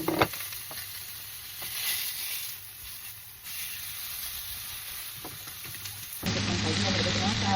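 Beef steak and mushrooms fry together in a hot grill pan, giving a steady crackling sizzle with a few soft clatters; the sizzle swells louder and denser in the last second or so.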